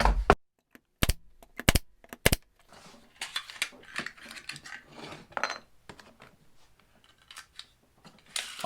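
A Harbor Freight Banks 2-in-1 brad nailer drives staples into a workpiece in several sharp, loud isolated snaps, followed by quieter clicking and rattling handling noises.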